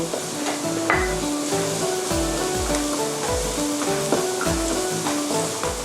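An ingredient fries in oil over medium heat until golden and fragrant, with a steady close sizzle under a run of repeated knocking and scraping of utensils against the pan.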